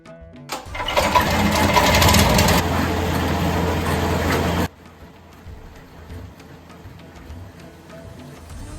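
A bread dough kneading machine runs in a home bakery in Nigeria, a loud steady motorized whir with rattling that starts abruptly, holds for about four seconds, then drops to a quieter continuous hum.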